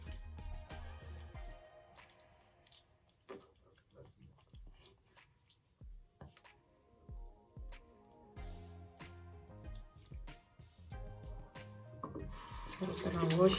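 Water runs from a tap while soap is rinsed off in a sink, sounding as intermittent splashes and trickles with soft drips and squishy hand noises, fairly quiet and close, with a brief louder gush at the end.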